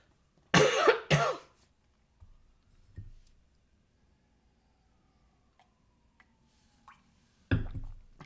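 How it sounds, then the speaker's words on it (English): Two harsh coughs up close, a stretch of quiet with small faint clinks and sips, then another cough near the end. "I'm going to have to cough and drink a little water first."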